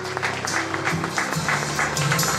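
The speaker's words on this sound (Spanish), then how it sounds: "Bien fuerte la palma para el padrino." Guests at a baptism party in Ossining, New York clap for the godfather, a short burst of steady applause from the crowd mixed with a low background hum.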